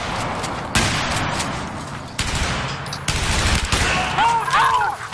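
Heavy bursts of gunfire from a USAS-12 automatic shotgun or QJY-88 light machine gun in Battlefield 4, loud booming blasts in repeated volleys with battle noise and voices over the top.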